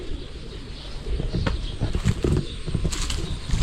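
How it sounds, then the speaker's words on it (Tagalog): Pet birds flap their wings in bursts at feeding time, close and fairly loud, with flutters and soft cooing over a steady outdoor background. "Pakain na ako ng ibon. Ito natin yung aking mga ibon."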